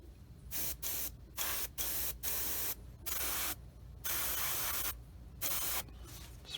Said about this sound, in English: spray a little bit there, and it looks good